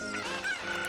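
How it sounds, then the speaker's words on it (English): A chicken in the video game Ocarina of Time Randomizer gives a short, loud, honking cluck, a single squawk heard alone and close. "Why is picking up chickens in this game so hard?"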